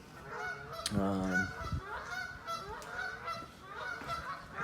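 Several geese honk loudly and repeatedly outdoors, overlapping calls in a noisy chorus with a prominent blaring honk near the start, near a garage or driveway workspace.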